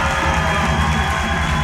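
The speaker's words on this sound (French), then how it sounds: "La foule est en délire, mesdames, messieurs, ce soir." A crowd cheers wildly at an event entrance, a dense continuous roar of voices and applause held at steady loudness throughout.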